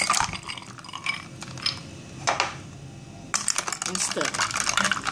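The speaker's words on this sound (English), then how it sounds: "And the ice." Ice cubes dropped into a pitcher of calamansi lime juice with water and sugar syrup, giving a few sharp clinks and clatters, close and fairly loud, the last burst a rapid cluster of knocks.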